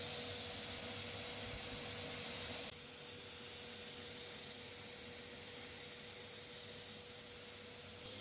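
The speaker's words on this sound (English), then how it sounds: "Aiko heard the sound of the vacuum cleaner" A steady, droning vacuum cleaner hum runs throughout, dropping slightly in level partway through, with no voices.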